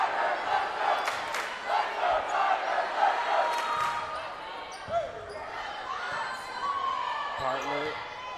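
A high school volleyball crowd gets hyped up in a gym, a steady roar of shouting and cheering voices with whoops and squeaking shoes, close and lively, with an announcer's voice mixed in.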